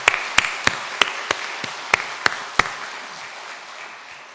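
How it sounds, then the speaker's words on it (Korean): Scattered hand claps ring out in a reverberant church sanctuary during a Korean Methodist Sunday worship service, about eight sharp separate claps in the first few seconds before fading into quiet room tone. "우리 다시 한번 따뜻한 박수 보내겠습니다"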